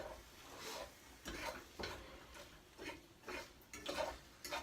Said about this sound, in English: I stir it up a little bit.